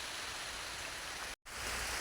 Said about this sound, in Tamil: நல்லா மழை வருது